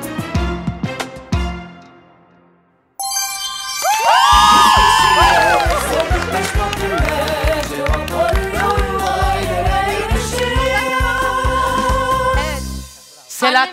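A studio audience on the Turkish family game show Aileler Yarışıyor cheers and whoops loudly over a bright musical sting, a sustained burst of crowd noise following a short stretch of near silence.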